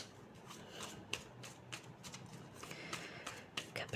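A deck of tarot cards is shuffled up close in repeated quick riffling bursts, with soft snaps between them and faint background voice.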